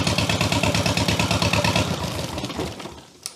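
A Jabiru light aircraft piston engine idling around 600 RPM with a rhythmic, lumpy chug, close and loud, slowing and fading out near the end with a final clunk.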